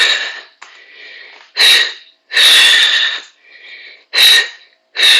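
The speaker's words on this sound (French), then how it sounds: "Vous entendez ma respiration," Heavy rhythmic breathing during a lateral-breathing exercise workout, with loud forceful exhales in regular bursts alternating with quieter inhales, close and alone without talk.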